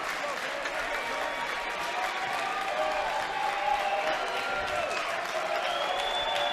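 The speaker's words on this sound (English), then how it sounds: "Now the crowd's into it." A baseball crowd at an LSU versus UL-Lafayette college game cheers and applauds steadily at a distance, a continuous wash of clapping and shouts that holds at an even level throughout.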